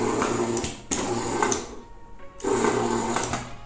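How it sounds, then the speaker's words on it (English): A small motor on a Funtu robotic toy car whirs and buzzes close by as the car drives forward, running in steady stretches with a short lull in the middle. "now as I will press the button, the bot is moving forward"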